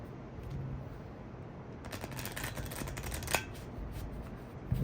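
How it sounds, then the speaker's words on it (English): Playing cards are shuffled in a quick flurry of soft riffling clicks, faint and close, following a moment of quiet. "I'm going to give it a shuffle"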